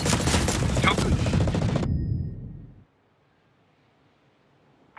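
Ghost Recon Breakpoint PvP firefight with rapid automatic gunfire bursting loudly for about two seconds, then fading into near silence before a sharp noise at the very end; voices mix in with the shooting.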